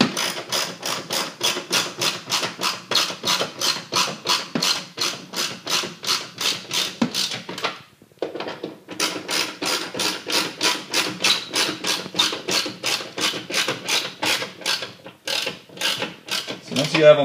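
A ratchet wrench tightening hood nuts on a 2012-or-later Ford Focus, clicking in a fast, steady rhythm up close, with a short pause midway before the ratcheting resumes and continues to the end.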